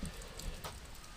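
Steady rain falling in misty mountains in Japan, a soft continuous hiss of drops with a faint low rumble beneath, no voices.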